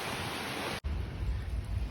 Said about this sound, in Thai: ฝนตกครับตกแรงด้วยครับ